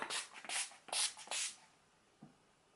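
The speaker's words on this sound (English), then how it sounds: "I'm just going to spray setting spray and see how that is." Four quick hissing sprays from a makeup setting spray bottle, close up, followed by a soft tap and quiet.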